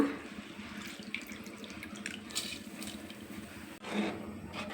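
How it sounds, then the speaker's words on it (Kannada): Soaked rice being washed in water in a kitchen, with a steady soft running and sloshing of water, a brief pause, then renewed splashing, moderately quiet and close. "ಅಕ್ಕಿ ತೊಳೆದು ಹಾಕೋಣ."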